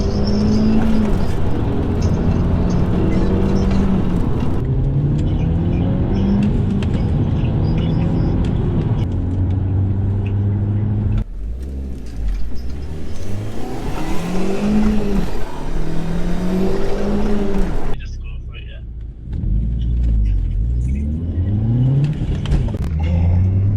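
An Audi TT pulls hard in first gear, the engine climbing in repeated rising revving sweeps with brief breaks, loud and close throughout.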